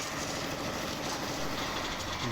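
A loud, steady mechanical rumble with a continuous churning rattle, a heavy machine engine running close by with no pauses during house roof slab concreting in Kerala.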